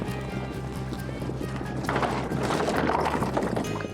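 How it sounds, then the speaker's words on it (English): Restless, spooked horses shuffle and stamp in a corral, hooves thudding irregularly under a steady low background hum. "Inside the corral, something has the horses spooked."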